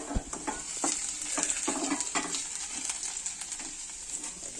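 Chili, ginger and garlic frying in a pan, a steady sizzle broken by repeated scraping and stirring strokes of a utensil against the pan.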